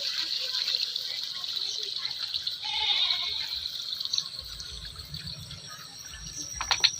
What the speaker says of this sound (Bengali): তো পরিমাণ মতো আমি জল দিয়ে দিয়েছি এখানে।